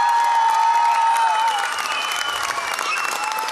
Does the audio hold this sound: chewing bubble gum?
no